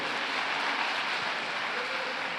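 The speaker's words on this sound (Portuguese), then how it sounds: "pode aplaudir o rei" A church congregation applauds during a sermon, a dense, even wash of clapping that holds steady for a couple of seconds, moderately loud and without words over it.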